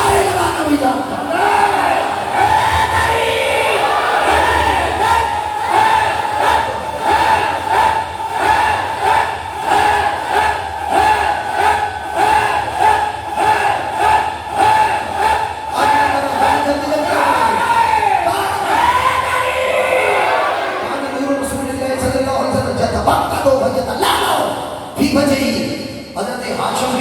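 A large crowd at a Milad gathering chanting religious slogans for Mola Ali, loud rhythmic massed voices answering in repeated calls, sustained and reverberant, with a louder burst near the end.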